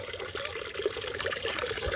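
Water pours steadily into a tilapia fish tank, a continuous close splashing trickle without talk.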